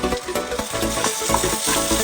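Ginger and garlic paste frying in a pan, giving a loud, dense sizzle with rhythmic scraping pulses from stirring across the whole short stretch.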